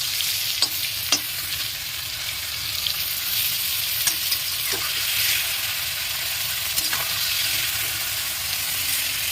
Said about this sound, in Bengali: চিংড়ি মাছটা কড়াইতে দিয়ে দিয়েছি এখন উল্টিয়ে নেবো